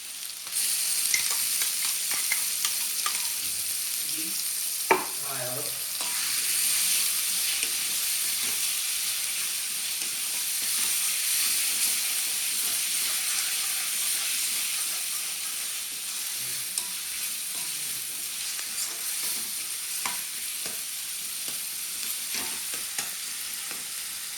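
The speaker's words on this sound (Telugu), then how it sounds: "పచ్చివాసన పోయిన వరకు ఇలాగా బాగా వేపుకోవాలి" Tomato paste fries in a pan for a fish curry, a steady soft sizzle and hiss with occasional stirring scrapes and pops throughout, fairly quiet and without any talking.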